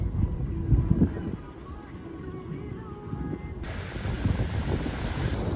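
Beach surf rolling in a low rumble mixed with gusty wind buffeting the microphone, close and fairly loud, surging and easing over a few seconds.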